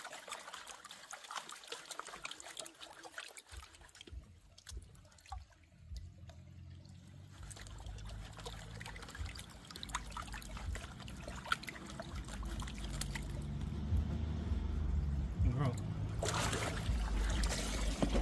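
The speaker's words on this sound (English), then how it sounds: "clean this up a bit so that the silt washes away" Water trickling and washing over silt-covered dig finds, a soft running flow that starts faint and gradually swells into a fuller, louder gush toward the end, heard close with no talk.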